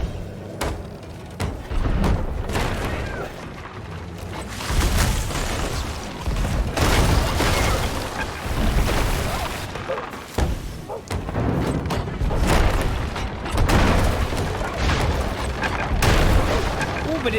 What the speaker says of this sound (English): Revalia, we are broadsiding